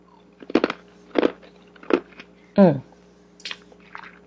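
Ice being chewed and crunched close up, several separate crunchy, squishy bites spread out over a few seconds, with faint mouth noises between them.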